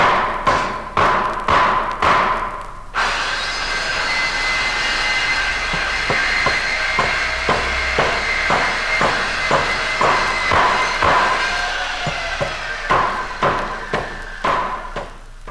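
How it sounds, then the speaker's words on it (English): Pounding, beating and drilling from a classroom: repeated loud thuds at an irregular rhythm over a steady mechanical drone, busiest at the start and end, with a continuous grinding wash through the middle. "the excruciating pounding, beating, and drilling invariably emitted from W107"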